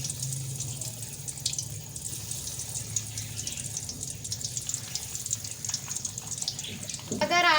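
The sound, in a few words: eggs frying in hot oil in a kadai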